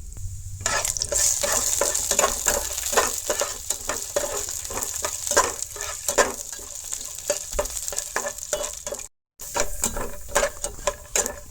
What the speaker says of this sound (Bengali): কাটিয়ে রাখলাম যে বাদামটা, এখন বাজি নিই ঘির মধ্যে।